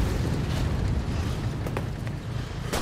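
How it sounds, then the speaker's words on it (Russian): Grenade explosion in the Enlisted shooter game, set in busy infantry combat. A dense, loud rumble runs throughout, with a few sharp bursts and a strong crack near the end. "Давай гранату туда сейчас сразу, гранату"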